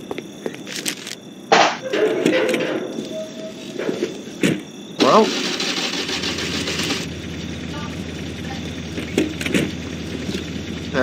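A car engine in the video game Mafia turns over and settles into a low, steady idling rumble through the second half, mixed with sharp game noises, clicks and a voice.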